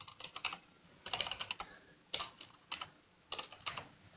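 Quick bursts of close keystrokes on a computer keyboard come in short uneven runs separated by brief pauses.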